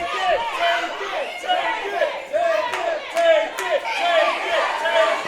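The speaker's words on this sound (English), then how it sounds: "The crowd encouraging Jon Davis here." A crowd at an independent wrestling show cheers and shouts encouragement for wrestler Jon Davis, a continuous roar of voices with individual yells rising and falling throughout.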